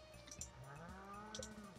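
A dairy cow on the farm in Stardew Valley gives a few soft, low moos over quiet game music, fairly faint and steady across the short stretch.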